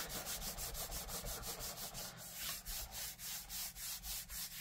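Steady rhythmic rubbing strokes while burnishing a surface by hand, a quiet, even back-and-forth scrape repeating about three times a second, close and alone.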